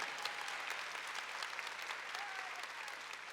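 A church congregation applauds during a Catholic Mass led by a priest, steady sustained clapping from a large crowd heard at moderate distance throughout.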